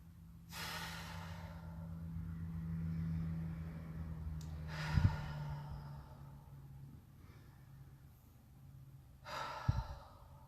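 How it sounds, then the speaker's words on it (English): Three slow, deep breaths taken during a guided meditation, each a soft airy inhale and exhale spaced a few seconds apart, close and quiet with no speech. "let's take a few deep breaths."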